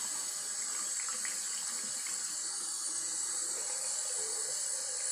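Bath water runs from a tap in a steady, even hissing stream that fills the tub, with no talking heard over it.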